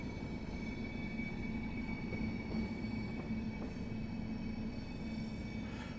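A Class 90 electric locomotive running in the Train Sim World video game, with a steady rumble of rolling wheels and a faint high squeal, constant and continuous throughout, no voices.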